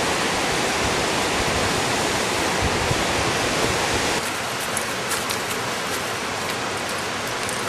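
Cascade Falls roars as a dense, continuous wash of falling water, loud and close at first, then dropping to a slightly softer, steady rush partway through.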